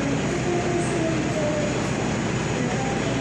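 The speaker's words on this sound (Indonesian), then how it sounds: "kereta api Pasundan New Generation" Pasundan New Generation passenger train pulling into Kroya station, a steady loud rumble of rolling stock and wheels with faint squealing tones, continuous throughout with no voices.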